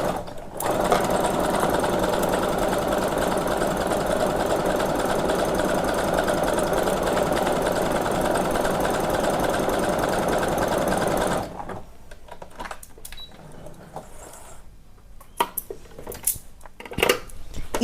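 A Brother DS1300 sewing machine runs continuously for about eleven seconds with a steady, loud mechanical whir, then stops, leaving faint clicks and handling sounds.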